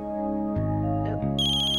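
A phone ringtone signals an incoming call, a loud melodic tone that plays steadily, shifts pitch partway through and then rises into a bright, high-pitched ringing phrase, with no talk.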